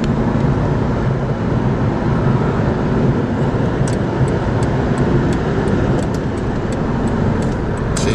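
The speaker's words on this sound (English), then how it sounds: "All this traffic for Father's Day?" Dense, steady roar of busy I-95 highway traffic heard from inside a moving car, with broadband road and tire noise running continuously and no voices.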